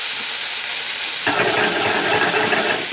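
Onion and ginger hit a hot pan and burst into a loud, steady sizzle, rising sharply partway through and holding at a constant frying hiss, with no voices.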